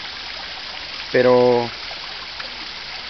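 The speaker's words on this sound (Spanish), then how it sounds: "lo que quería ver es que la cascada funciona muy bien" Water from a newly built garden pond waterfall spills in a steady, even rush, with one short spoken word briefly over it.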